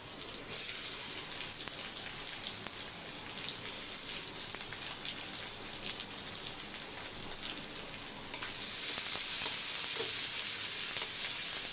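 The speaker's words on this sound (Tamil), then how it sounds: "வெங்காயம் வதங்கட்டும்" Chopped onion with crushed garlic sautés in a pan, giving a steady, close crackling sizzle that grows a little louder toward the end, with no voices.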